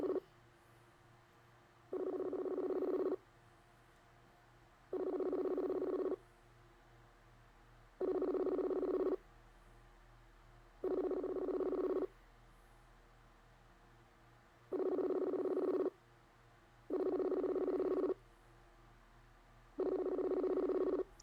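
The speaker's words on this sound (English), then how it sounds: "Answer the phone" An outgoing telephone call rings in the earpiece: a repeating electronic ring tone in regular bursts of about a second, separated by short gaps, steady and moderately loud over faint background hiss.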